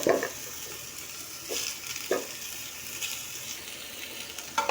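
Animal fat renders in a hot pan for safa kebab oil, a soft steady sizzle with a few brief louder crackles and spits, close and alone with no talk.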